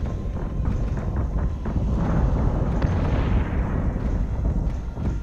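Heavy starship guns firing in the Battlestar Galactica: Deadlock space battle game, a continuous booming barrage of dense low rumbling blasts with bright crackling impacts, loud and sustained throughout.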